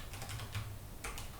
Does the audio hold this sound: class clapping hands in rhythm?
no